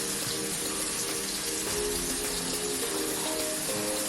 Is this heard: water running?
yes